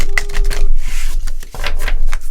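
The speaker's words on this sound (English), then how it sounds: "I want to do one of these little shuffles" Close, crisp clicking and riffling as tarot cards are shuffled by hand, in quick irregular bursts.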